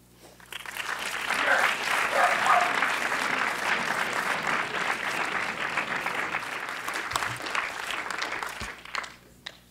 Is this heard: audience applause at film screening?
yes